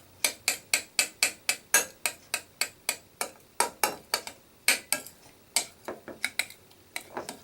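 Egg salad with pepper being mixed in a bowl, a fast regular series of sharp utensil taps against the bowl, about three per second, close and fairly quiet, with no talking.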